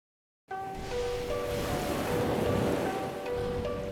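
Open-ocean waves and wind heard from aboard a Hornblower cruise boat, a steady loud wash beginning abruptly after a brief silence, with faint tonal hum layered beneath the surf.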